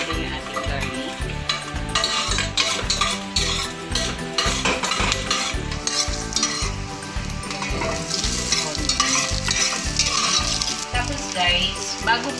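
Garlic and onion sauté in a pan for a kare kare stew, a continuous sizzle under frequent metallic scraping and clinking of a utensil stirring, fairly loud and steady.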